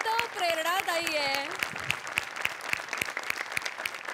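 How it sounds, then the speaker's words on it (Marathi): A studio audience at a Marathi comedy show bursts into loud applause, first under a sung or drawn-out voice, then settling into a sustained, rhythmic clapping. "एकदा जोरदार टाळ्या पुन्हा एकदा."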